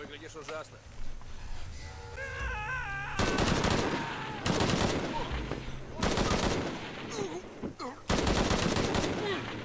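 Gunfire in the video game Shadow of the Tomb Raider, loud repeated bursts of shots in several volleys, mixed with game voices and speech throughout.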